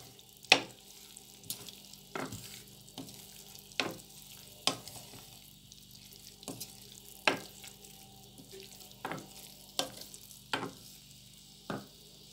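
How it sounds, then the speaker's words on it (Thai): Beef being stir-fried with curry paste in a home kitchen pan, heard as sharp intermittent scraping and stirring knocks roughly every second over a faint steady sizzle, with no voices. "แล้วเราก็เอาเนื้อลงไปพัดกับพริกแกงเลยค่ะ"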